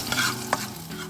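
Garlic stir-fried in a pan for Lao phat ka phao makes a brief, steady sizzle with a couple of quick scraping strokes, the sharpest one near the middle, and no voices.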